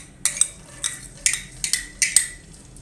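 A metal utensil stirs finely chopped garlic frying in half a cup of hot oil, quick bright clinks and scrapes against the pan in irregular bursts over a faint low sizzle, close and with no talking.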